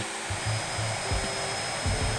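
A Numatic RSV150 backpack vacuum runs without its bag and Tritex filter, losing suction. The motor gives a loud, steady whine and airflow hiss, with a few low thumps and flutters pulsing underneath.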